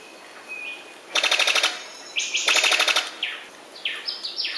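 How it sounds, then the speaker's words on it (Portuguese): A brown sicklebill, a fruit-eating bird of New Guinea, gives loud rapid bursts of staccato notes that sound like machine-gun fire, separated by shorter sliding whistled calls. "A vocalização pertence ao foice marrom, que é uma ave frugívora encontrada apenas na Nova Guiné, na Oceania."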